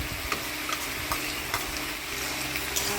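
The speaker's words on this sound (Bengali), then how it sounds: "হলুদ লবণ দিয়ে নাড়াচাড়া করে নিলাম" Fish curry with turmeric and salt stirred in a hot pan, a continuous close sizzle with soft scraping strokes every half second or so.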